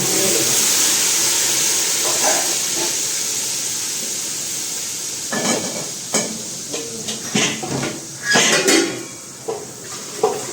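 Capsicum, ginger, chilies and tomatoes added to hot oil with asafoetida in a pan for green pigeon pea dal, a steady hiss that fades, then scattered clinks and scraping stirs.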